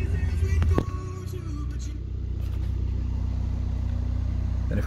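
A car engine idles steadily during a battery tester check, a loud rough knock at the start dropping into an even mid-level hum that holds to the end, with faint clicks and no speech.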